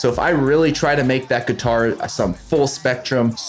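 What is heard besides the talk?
No everyday noise stands out behind the speech.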